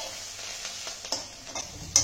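Vegetables fry in a wok with salt and turmeric, giving a steady close hiss of sizzling with a few soft stirring scrapes and a sharper clatter near the end.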